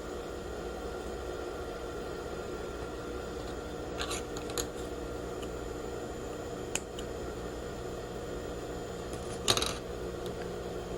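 Scissors make a few brief, faint snips into fabric while a pocket is being sewn, isolated clicks spread over a steady background hum.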